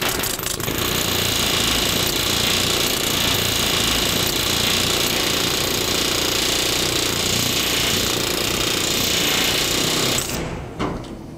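A pneumatic rivet hammer rattles continuously at high speed, loud and steady, stopping abruptly near the end.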